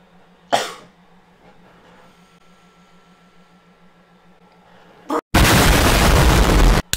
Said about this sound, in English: I'm gonna cough once again.